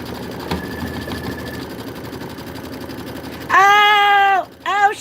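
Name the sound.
sewing machine embroidering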